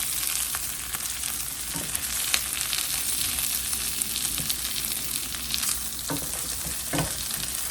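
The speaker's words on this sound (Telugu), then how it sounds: "ఆ గ్రేవీ ఉంది కదా, ఏదైతే మ్యారినేట్ చేసామో ఆ గ్రేవీలో వేగిపోతుందండి" Onions fry in the leftover fish marinade gravy in a pan after the salmon is removed, a steady close sizzle with occasional scraping stirs and no voices.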